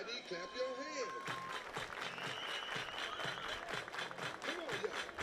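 A crowd at an IBL playoff baseball game claps in steady rhythmic unison, moderately loud and continuous, with an announcer's voice and stadium sounds over it.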